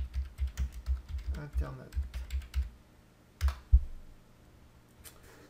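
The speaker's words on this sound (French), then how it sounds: "je vais taper test vitesse" Rapid typing on a computer keyboard, close, with a steady run of clicking keystrokes, then a pause and a few final taps, while a voice speaks briefly partway through.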